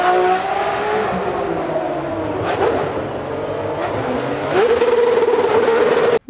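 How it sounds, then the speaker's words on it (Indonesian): A Formula One race car engine revs loud and close, the pitch rising and falling in sharp sweeps as it accelerates, with a high harmonic whine that climbs strongly near the end before cutting off abruptly. "Ini adalah mobil Formula One."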